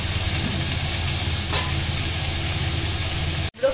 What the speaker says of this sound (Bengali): আর ব্রোকলিটা এখন ভাজা হচ্ছে, তো আর একটু বাদামি রং করে ভাজা হয়ে যাবে